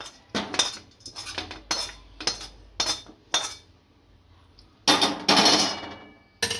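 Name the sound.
date mixture scraped from pan into a vessel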